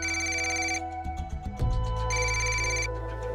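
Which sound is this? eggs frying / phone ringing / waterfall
phone ringing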